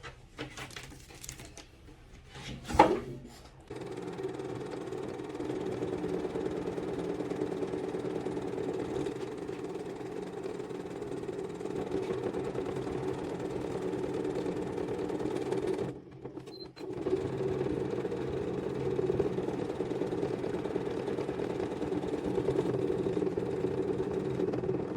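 A sewing machine stitches tailored trousers with a fast, steady mechanical whir and rattle that runs for long stretches, pausing briefly near the start and again midway before resuming, close and alone without talk.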